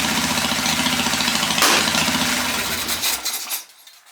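A Harley Dyna engine idles roughly with an incorrect air-fuel ratio, a loud uneven low rumble that sputters and drops away near the end.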